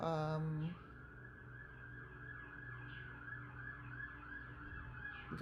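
Wailing emergency sirens sweep up and down in a steady cycle, moderately loud, following a brief burst of a voice at the start.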